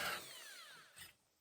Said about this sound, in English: So I start the drilling like this.